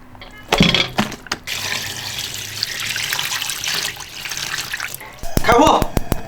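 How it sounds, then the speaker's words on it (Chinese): Pig heart and lungs splash into a large pot of water for blanching, with running and pouring water throughout and clattering knocks near the end. A voice talks over part of it. "心肺下锅，焯个水。"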